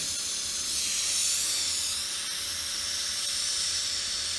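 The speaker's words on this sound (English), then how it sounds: "I'm using a hydrogen torch to do this, oxy-hydrogen torch" An oxy-hydrogen torch flame hisses steadily, a constant bright rushing sound close by that swells slightly, then holds.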